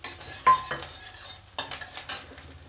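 Green chillies tossed and stir-fried in a pan for vegetable spring roll filling: a few sharp metallic spatula scrapes and clinks against the pan over a faint sizzle, close and fairly quiet, with no talking.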